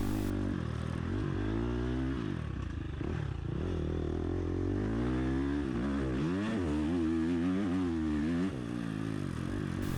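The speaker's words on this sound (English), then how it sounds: "I love the sound of my bike. That FMF titanium header and silencer just sounds so good." A 350 dirt bike with an FMF titanium header and silencer revving hard during a sprint enduro race, loud and close with a continuous rising and falling engine note, no talk.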